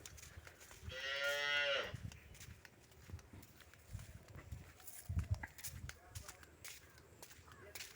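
A cow gives a single drawn-out moo, loud and close, while cattle shuffle and step around on a rural road beside waterlogged fields, with scattered soft hoof thuds and people talking faintly in the background.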